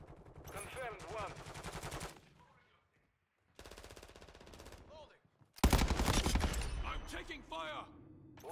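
Bursts of machine-gun fire from a first-person shooter video game rattle in rapid volleys separated by short pauses. A loud blast opens the final stretch, and game voices sound over the shooting.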